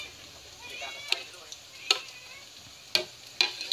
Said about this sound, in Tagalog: Kailangan naka-deep fry guys para lutong-luto siya.